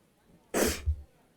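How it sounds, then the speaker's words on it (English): A single sharp human sneeze erupts close up out of near silence, a loud burst followed by a short gasping tail, with no speech around it. "I knew I felt a sneeze."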